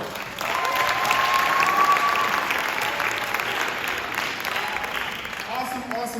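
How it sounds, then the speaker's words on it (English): Audience at a middle school awards ceremony applauding parents, a dense, steady wash of many hands clapping, loud and continuous, with a few voices and cheers mixed in as it slowly tapers off. "Let's give our parents a round of applause."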